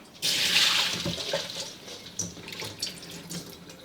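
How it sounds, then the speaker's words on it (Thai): Water draining from soaked glutinous rice, a rushing pour that starts abruptly and tapers into splashes and trickles, close and moderately loud. "ให้เรานำข้าวเหนียวมาเสด็จน้ำให้หมาดเลยนะครับ"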